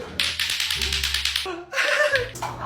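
Rapid, evenly spaced clacking of a clacker toy, then a short pause before tonal, voice-like sounds take over at the end.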